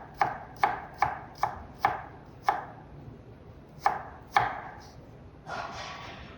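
A knife chops pear into thin strips on a cutting board, nine crisp, distinct thuds in an uneven rhythm with brief pauses, close and clear, followed by a soft scraping sound.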